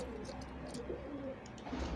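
A male pigeon coos softly in low, repeated throaty notes, close but faint against a quiet room background.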